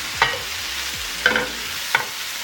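Egg roll filling being stirred in a hot sizzling pan, three distinct scraping stirs against a steady background of frying, close and clear with no talking.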